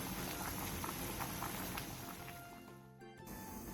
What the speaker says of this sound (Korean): 냄비에 토마토가 반 정도 잠기게 물을 넣은 뒤 센 불에서 데쳐주세요